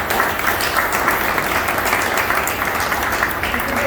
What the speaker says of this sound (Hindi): तो मैं चाहता हूं हमारे डॉक्टर जे एस पटेल सर के लिए एक जोरदार ताली मिले।